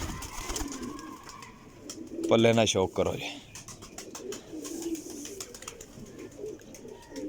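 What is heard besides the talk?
pigeon cooing, Sialkoti quail-type pigeon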